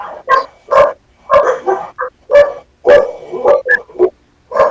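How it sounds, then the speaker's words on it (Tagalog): A dog barks loudly and repeatedly outside, close by, in quick irregular bursts of sharp barks mixed with yips for several seconds, with no voices over it. "Ang ingay ng aso."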